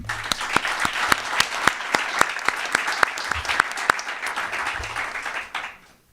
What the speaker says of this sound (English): Please join me in a round of applause for their efforts.